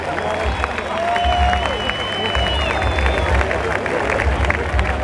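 A comedy show audience breaks into sustained applause and cheering, a dense steady wash of clapping with crowd noise and a few whistles over it.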